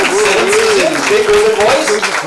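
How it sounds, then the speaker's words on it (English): A crowd at the Big FM Big Golden Voice Season 7 launch with a celebrity guest applauds loudly and continuously, while a voice carries on over the clapping throughout. "Big applause."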